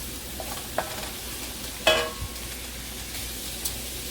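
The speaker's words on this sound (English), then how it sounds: "now that these vegetables are sauteed down and they're a little tender" Vegetables for chicken fried rice sauté in a pan, seasoned with garlic and onion powder. A quiet, steady sizzle runs throughout, with a few brief stirring scrapes and clinks.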